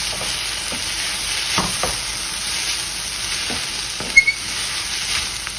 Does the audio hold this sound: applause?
no